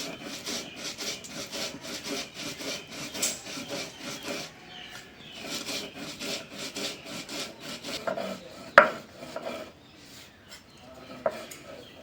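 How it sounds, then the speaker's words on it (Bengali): Roasted spices being ground into powder make a steady, rhythmic rasping and scraping that repeats in close, even strokes, with a couple of sharper knocks near the end and no talk. "মশলাটা গুঁড়া গুঁড়া হয়ে গেছে"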